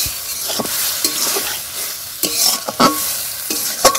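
Fish pieces coated with salt, turmeric and spices sizzle and fry in a pan while being stirred, with close scraping strokes recurring over steady hiss.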